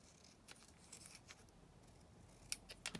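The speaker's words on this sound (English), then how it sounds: "I'm just going to cut these out with my straight edge scissors." Paper cut with straight edge scissors, faint crisp snips scattered over a quiet room, with a couple of sharper cuts near the end.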